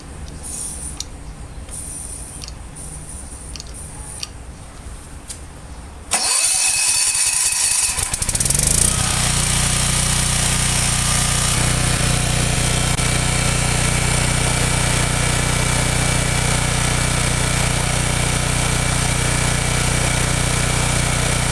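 A Generac 7550 EXL portable generator cranks, catches after a brief rough start, then settles into a loud, steady, continuous engine drone close by, with no talk over it.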